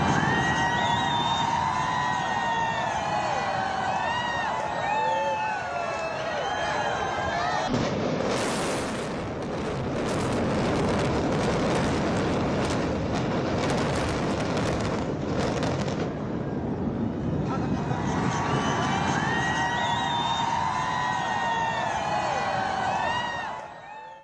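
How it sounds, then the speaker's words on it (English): Controlled demolition of the Supertech twin towers in Noida, a sustained roaring rumble of collapse and rapid crackling blasts swelling in the middle, surrounded by a crowd's distant shouts and screams, loud and continuous throughout. "Here's another view of the demolition."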